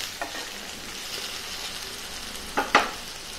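Eggplant and potato bhaji with chili and coriander powder fries quietly in a pan under a faint, low sizzle, with a couple of sharper scrapes of stirring near the end.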